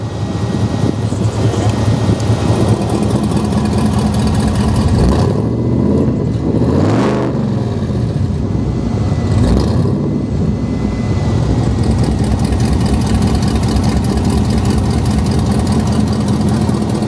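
The LT5 engine in a 1971 Chevy Impala built by I95 Motorsports, fitted with exhaust cutouts, idles with a loud, close, lumpy rumble broken by a couple of swelling revs.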